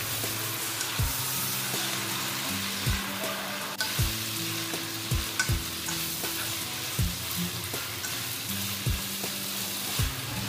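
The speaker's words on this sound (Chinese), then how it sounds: "接着翻炒" Cabbage and glass noodles stir-fried in a wok with sauce give a steady close sizzle, punctuated by repeated sharp knocks and scrapes of the spatula against the pan, with no voices.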